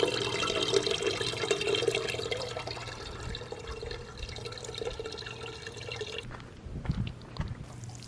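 Rainwater pumped from a garden tank into a watering can: a continuous splashing, gurgling stream of moderate loudness that keeps running for several seconds before tailing off into scattered drips and knocks.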